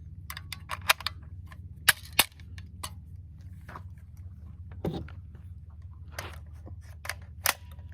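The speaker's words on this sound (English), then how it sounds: "Shooting different rifles." Rifle shots ring out at an outdoor shooting range, a series of sharp cracks at irregular intervals, some loud and close, others fainter and more distant, over a steady low background rumble.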